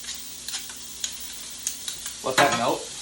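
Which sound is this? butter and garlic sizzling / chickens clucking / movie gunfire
butter and garlic sizzling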